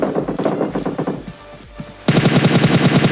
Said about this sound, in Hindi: तो भाई अब सब जगह गोलियां चल रही होती हैं